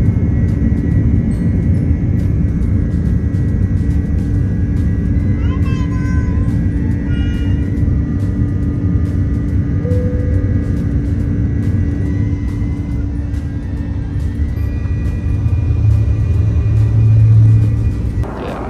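Airplane taking off on an early morning flight from Fukuoka, heard from inside the cabin: a loud, constant engine roar and rumble that holds steady for the whole stretch, with faint voices in the background.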